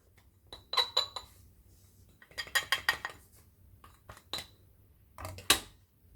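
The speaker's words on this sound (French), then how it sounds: "je vais utiliser en fait une cuillère en métal" A metal spoon clinks and scrapes against a ceramic bowl while rhassoul clay is measured out for a solid shampoo, coming in several close, bright bursts of clatter separated by short quiet gaps.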